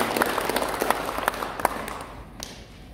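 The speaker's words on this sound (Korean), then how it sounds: "또 박수해 주시기 바랍니다." Audience at a Korean church mission society anniversary thanksgiving service applauds invited guests, a steady patter of many hands that fades out toward the end, with no voices over it.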